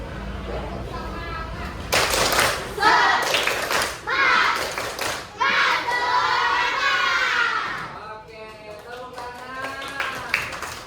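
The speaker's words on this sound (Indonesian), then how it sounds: "Silakan untuk tepuk semangat." A group of children performs a rhythmic clapping chant, their shouted voices and hand claps in bursts and patterned sequences, with a quieter stretch of speech toward the end.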